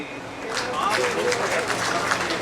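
An audience at a government water-conservation event in Bhopal applauds to welcome guests, a steady wash of clapping under an amplified voice speaking over it.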